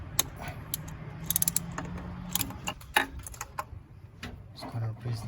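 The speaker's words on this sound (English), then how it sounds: "After that, tighten it with your ratchet." A ratchet tightening a spark plug on a Mitsubishi Montero Sport, heard as quick clicking bursts and metallic ticks at close range, with quiet background noise between the clicks.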